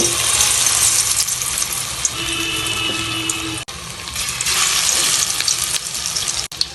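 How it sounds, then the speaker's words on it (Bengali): Chicken leg pieces crackling in hot oil over a low gas flame, a steady dense sizzle that stays loud and close throughout, with no voices. "লেগ পিসগুলোকে ফ্রাই করার জন্য গরম তেলে ছাড়ব"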